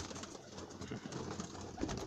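Sialkoti black-faced pigeons coo softly and continuously in a loft, a faint low murmuring with steady background noise.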